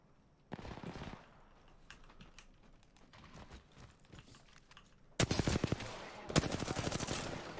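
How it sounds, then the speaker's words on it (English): Apex Legends gunfire: scattered rapid cracks early on, then loud, dense automatic bursts from about five seconds onward that sound close and sharp. "I'm getting shot at"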